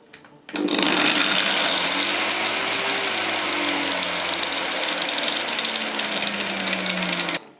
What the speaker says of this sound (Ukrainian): Двигун розганяється плавно, піковий струм значно менший.